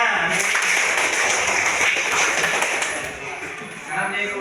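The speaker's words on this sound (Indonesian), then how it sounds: "kasih tepuk tangan" A classroom of students breaks into sustained applause after a group presentation, dense clapping that holds steady and then fades, with a voice rising near the end.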